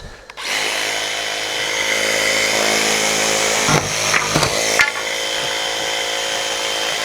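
A power saw cuts through wood for a homemade garden gate, a loud, steady, close whine running almost unbroken for about seven seconds, with a brief dip and a few scraping jolts near the end, and no talking.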